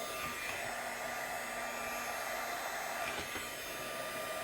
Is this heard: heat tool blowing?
yes